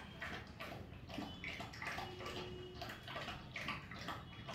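A dog laps water from a bowl at home, a steady run of wet, rhythmic slurping bursts at close range with no talk over it.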